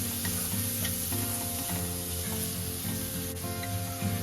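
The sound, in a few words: mixing boiled potatoes into a sizzling pan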